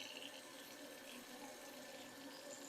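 Tap water runs steadily into a kitchen sink as an onion is washed, a continuous close hiss and splash with no talking.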